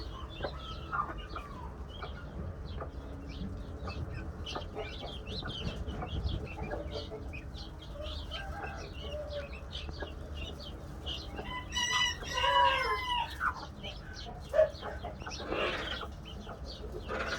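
On a farm, young guinea fowl chicks peep and chickens cluck and chirp in scattered, irregular bursts. The calls are fairly quiet, with a cluster of louder calls near the end.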